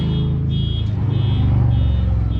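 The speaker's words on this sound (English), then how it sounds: "Got a little motorcycle going around, terrorizing the neighborhood" Low, rumbling engine drone of a motorcycle moving around nearby, steady and loud, with a faint high tone above it.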